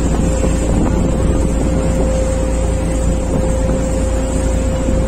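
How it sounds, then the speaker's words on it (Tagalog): Near Hap Mun Island in Hong Kong, a large boat engine at sea drones steadily with a humming tone, mixed with buffeting wind noise on the microphone, loud and continuous with no talking. "Laki siguro makina doon, Mark, no?"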